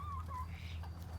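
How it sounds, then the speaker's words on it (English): Bigger hens and roosters on a homestead, faint clucking calls over a steady low hum. "These are our bigger hens and roosters"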